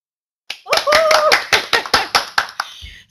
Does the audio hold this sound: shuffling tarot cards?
no